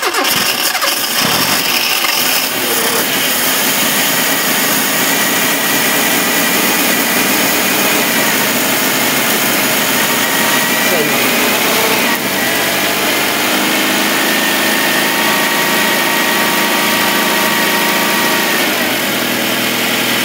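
A 1970s Japanese rear-wheel-drive coupe, a barn find, starts up and keeps running, its engine roaring loud and close with a steady revving drone that holds throughout.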